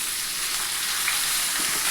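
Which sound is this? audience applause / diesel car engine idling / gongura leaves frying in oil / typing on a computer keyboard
gongura leaves frying in oil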